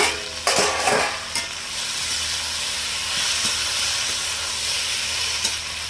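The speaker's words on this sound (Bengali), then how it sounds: "পরিমাণ মতো লবণ দেবো, হলুদ গুঁড়ো দেবো, চাপা দিয়ে দিয়ে আমি ভেন্ডিটা ভেজে নেব।" Okra fries in a pan with salt and turmeric while it is pressed and stirred. A steady, close sizzle continues throughout, opening with a few scraping stirs and knocks, with no speech.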